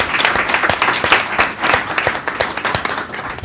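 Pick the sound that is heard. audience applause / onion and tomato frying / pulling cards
audience applause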